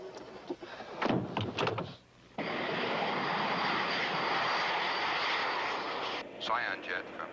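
A jet aircraft holding at 30,000 feet roars with a broad, steady engine drone that swells and holds after a brief clatter and a moment of quiet.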